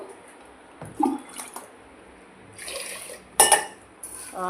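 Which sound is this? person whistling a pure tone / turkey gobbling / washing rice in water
washing rice in water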